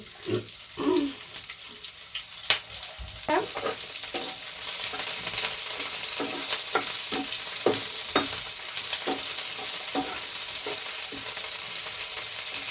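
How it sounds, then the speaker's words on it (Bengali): Onions hit hot oil in a pan for cauliflower korma and sizzle loudly and continuously, with repeated scraping stirs and utensil knocks over the hiss. "এবার দেখো তেলটা, এই প্যানগুলোই না এই মুশকিল, তেলগুলো বড্ড সাইড হয়ে যায়। এর মধ্যে দিয়ে দিচ্ছি পেঁয়াজগুলো।"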